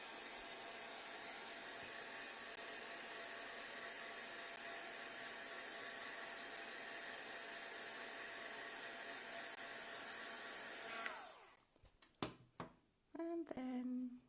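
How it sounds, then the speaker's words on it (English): A handheld heat tool blows a steady, loud whooshing roar over metal embellishments on a handmade card for about eleven seconds, then cuts off, leaving a few faint clicks and handling noises. "it's handy to use a heat tool, because when the metal gets heated"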